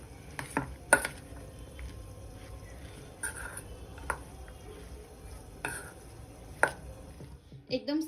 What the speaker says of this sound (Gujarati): સારી રીતના મિક્સ કરી દઈશું